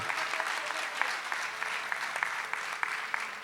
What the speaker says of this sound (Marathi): जोरात टाळ्या एकदा